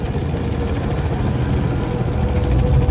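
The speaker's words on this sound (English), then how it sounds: "Send the chopper over to soften him up." Helicopter flying overhead in the video game Manhunt 2, a steady, loud rotor and engine drone that holds continuously through the whole stretch without letup.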